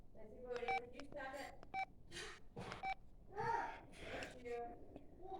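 A flip phone keypad gives a series of short, clear beeps as its buttons are pressed, close and fairly loud, mixed with a child's chatter and other voices.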